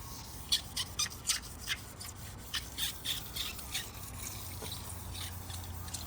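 A boat hull is wet sanded by hand on a soapy surface: soft rhythmic rubbing strokes with squeaky rasping, about a dozen bursts in a row, then quieter steady scrubbing, close and unaccompanied by talk.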